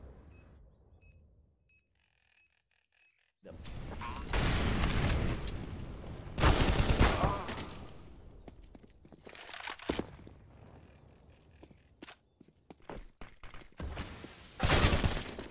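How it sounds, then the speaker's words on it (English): Gunshots in a video game esports match ring out in bursts after a quiet start with soft beeps, sharp cracks and volleys of fire scattered through the rest, loud and close. "More shots coming out."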